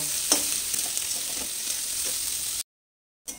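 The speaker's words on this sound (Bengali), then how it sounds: "এবার পেঁয়াজ কুচি দিয়ে দিচ্ছি, দিয়ে পেঁয়াজটাকে ভালো করে ভেজে নেব।" Chopped onions frying in a pan for cabbage pakora, a continuous close hiss of sizzling oil with a couple of soft stirring knocks, cutting to silence briefly before the sizzle resumes.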